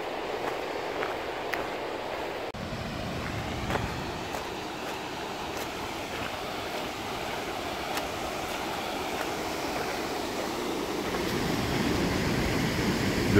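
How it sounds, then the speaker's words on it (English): The Falls of Tarf in Glen Tilt rush as a continuous broadband roar, steady and fairly close, swelling slightly louder toward the end, with a few faint knocks and ticks over the water. "And the waterfall."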